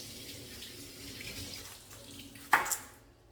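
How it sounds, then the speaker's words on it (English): A kitchen tap runs water over food in a sink, a soft steady stream with a brief louder splash near the end. "Okay, I'll rinse this off for you."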